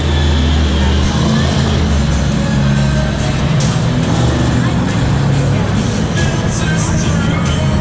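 Taurus, a monster truck, roars through a Monster Jam run in a stadium, its loud engine and crowd blending into a dense, continuous wash of sound.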